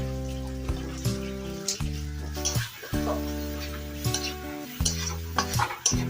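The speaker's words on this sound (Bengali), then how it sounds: "একটু জল দিয়ে আবারও ভালো করে নেড়ে চেড়ে নেব" Masala with tomato for a rui fish curry gets stirred in a pan after a splash of water, with repeated scraping strokes and a soft sizzle over a steady low mechanical hum, and no talking.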